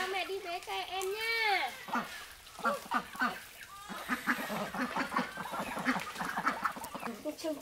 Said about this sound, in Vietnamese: Cái con gà á.